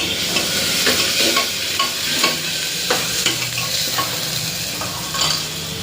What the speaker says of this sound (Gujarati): હવે ચમચે હલાવી દે